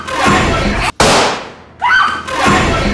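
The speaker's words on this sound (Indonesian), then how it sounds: "Anggota Nelson menembak dan membunuh teman Bambang itu" Gunshots ring out in a tense film scene, several loud, close cracks and bursts with sharp decaying tails, one abrupt blast cut off by a brief silence, mixed with movie sound effects.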